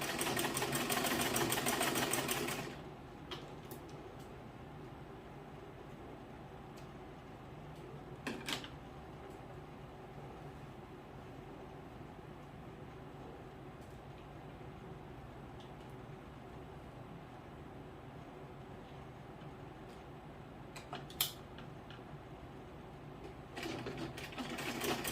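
A sewing machine runs fast while stitching skirt fabric with lining, a loud buzzing burst at the start, then quiet stretches broken by brief machine bursts and handling clicks, with another short run at the end.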